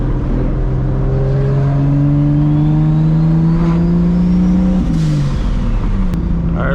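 A straight-piped Toyota Supra engine pulls hard under acceleration, its loud raw exhaust note climbing steadily in pitch, dipping briefly at a gear change, then continuing from inside the car without any talking.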